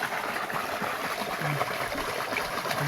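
Water runs steadily along an irrigation channel on a farm plot, a continuous close trickling and gurgling flow with no other sounds over it.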